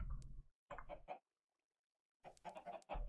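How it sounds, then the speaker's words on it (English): Short bursts of chicken clucking from Minecraft, two quick groups separated by a silent gap, sounding like synthesized game effects. "Is it seeds that chickens like?"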